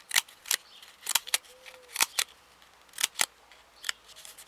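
Scissors snipping small fringes into material, a close series of sharp crisp cuts, often in pairs, with brief quiet gaps between them.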